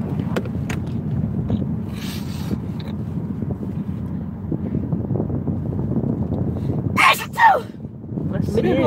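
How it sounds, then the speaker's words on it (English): A single sneeze bursts out near the microphone during an outdoor walk, over steady wind noise and rumble, with people chatting before it. "I sneeze so much."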